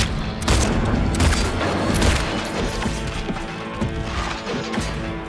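Gunfire in the Silent Hill 2 Remake during the first fight with Pyramid Head: loud, dense booming and crashing shots that run together into a continuous barrage with no pauses.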